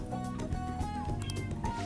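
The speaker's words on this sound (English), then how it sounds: "My cat just meowed at that." A pet cat meows a couple of times, close and fairly quiet, under the tones of video game music.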